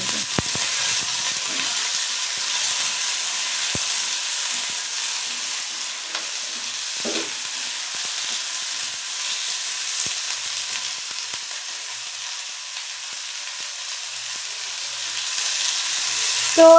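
Green chilies, onion and garlic fry in oil with a continuous steady sizzle and hiss, close and fairly loud, with a few faint stirring clicks.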